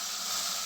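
Water poured into a hot pan of cooking onion paste gives a brief, loud, steady sizzle and hiss.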